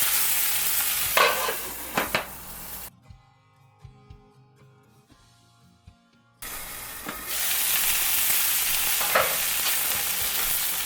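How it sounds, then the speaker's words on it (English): Sausages sear in a hot pan with a steady, loud sizzle and spatter, breaking off briefly in the middle before resuming, with a few clinks of a utensil turning them and no talk. "I'm going to get a good sear on one side, and just flip them over and start searing the other"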